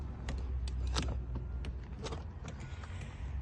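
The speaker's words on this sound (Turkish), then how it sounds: "Elektrikli koltuklara mevcut evet ayarlamaları." An electric car seat adjustment motor whirs in short bursts, broken by sharp clicks and small mechanical knocks, all close and fairly quiet.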